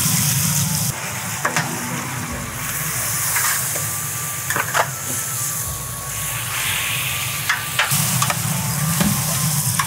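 Pieces of fried surma sea fish go into a sizzling pan of curry with tomato, producing a steady close hiss broken by occasional stirring clatters and knocks.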